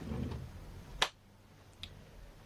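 One sharp hand clap rings out in a quiet room, followed moments later by a fainter tap, after a brief murmur of talk.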